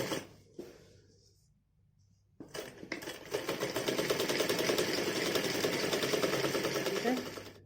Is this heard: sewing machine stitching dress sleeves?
yes